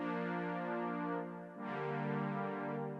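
A sustained synthesizer pad from a Repro-5 preset, dry with no added effects, plays two long chords, the second sliding lower, smooth and harmonically rich with no voices.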